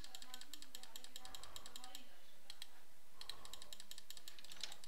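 Computer keyboard typing during a gaming session: rapid bursts of sharp key clicks with short pauses, close and clear, with faint voice sounds in the background.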